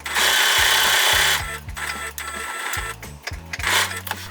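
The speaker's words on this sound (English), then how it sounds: "sew down all the edges with your sewing machine" A sewing machine sewing down fabric edges runs in rapid mechanical bursts, whirring and clattering close up, stopping and restarting several times.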